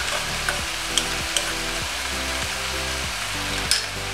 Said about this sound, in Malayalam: നല്ലോണം വഴറ്റിയിട്ട് ഇതിനെ പകുതി ആവുന്നത് വരെ വഴറ്റണം.